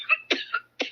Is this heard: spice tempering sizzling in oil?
no